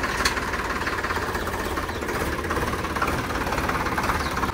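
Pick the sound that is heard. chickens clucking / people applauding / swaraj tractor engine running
swaraj tractor engine running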